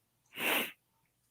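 A single short, breathy sneeze bursts out close by in an otherwise quiet room, followed by silence and a faint click.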